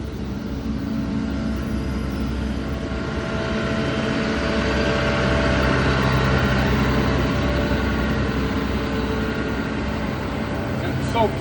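An asphalt paver idles with a steady diesel rumble while its screed sections raise automatically, the engine drone holding constant and close with a slight swell midway and no voices over it.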